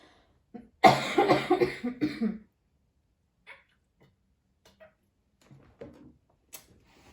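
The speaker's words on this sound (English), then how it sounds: "I do have a little bit of a cough" A burst of several raspy coughs in quick succession, close and fairly loud, then near silence with a few faint scattered clicks.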